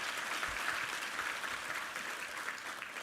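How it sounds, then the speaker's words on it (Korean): A church congregation claps together during a Sunday worship service. The dense, even applause carries on without a break for a few seconds. "우리 하나님께 감사와 영광의 박수 올려드리겠습니다."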